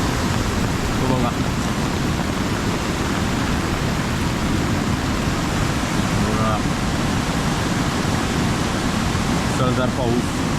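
Torrential monsoon rain pours down in a Konkan village beside the flooding Kajali river, a dense, steady roar of hiss that never lets up, with faint voices buried beneath it.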